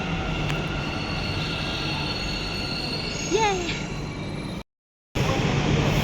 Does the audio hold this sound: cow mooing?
no